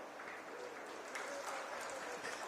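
An outdoor public-event crowd in H.D. Kote claps after a recited vachana, a fairly faint, steady patter of many hands that sounds distant and sustained.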